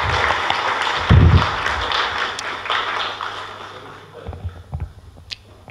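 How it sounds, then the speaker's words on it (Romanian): An audience applauds at a university anniversary ceremony marking 162 years of modern higher education at UAIC in Romania. Dense, sustained clapping fills the hall, then thins out and fades toward the end. "Vă rugăm să-i mai aplaudăm încă o dată pe toți 12."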